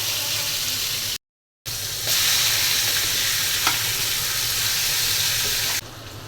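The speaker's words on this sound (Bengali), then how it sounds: "মাছগুলো উল্টে দিচ্ছি।" Fish sizzle and fry loudly in a pan with a dense, continuous crackle, interrupted by a brief silent gap and a few sharp ticks of turning pieces.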